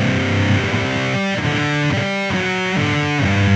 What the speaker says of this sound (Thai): ถ้าเป็นเสียงฟัสจะเป็นประมาณนี้